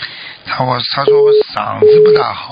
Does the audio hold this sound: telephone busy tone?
yes